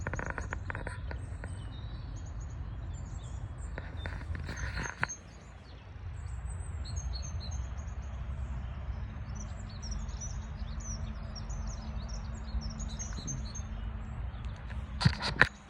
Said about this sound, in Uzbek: qushlarni sayragani eshitilyaptimi?